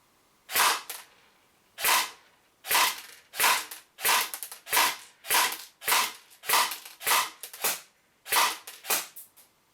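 A Secutor Rapax DMR airsoft rifle fires BBs at a 10-meter range in about a dozen sharp, evenly spaced snapping shots, each loud and close with a brief tail, with no voices.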